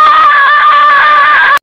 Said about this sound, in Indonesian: Teriakan cewek. Kenceng banget.